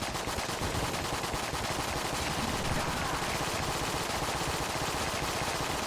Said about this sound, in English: have some bouncing bullets